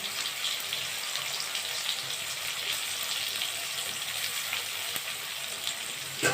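Ground onion paste sizzles in a pan of hot oil while a Bengali fish curry is cooked, right after potatoes were fried. A steady, dense hiss of frying continues close by without a break, and no one talks.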